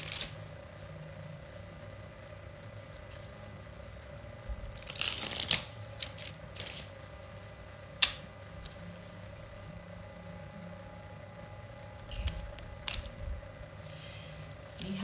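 Prism oracle cards being shuffled by hand, a soft papery riffle burst in the middle with scattered taps and rustles around it, close and fairly quiet over a steady hum.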